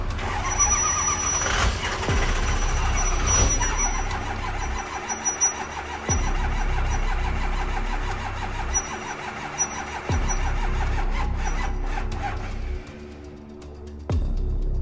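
A 6.0 Powerstroke diesel swapped into a Humvee cranks repeatedly without catching, with loud, steady starter churning broken by brief pauses between attempts.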